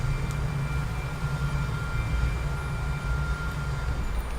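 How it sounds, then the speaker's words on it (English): A steady, loud jet-engine-like roar from the Journey video game, a constant low rumble with a faint high whine, droning evenly throughout without any talk. "it sounded like a jet engine"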